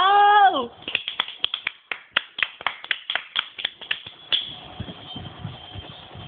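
Audience clapping at a show, a brief vocal note and then a steady series of crisp, evenly spaced claps close by, settling into softer crowd murmur near the end.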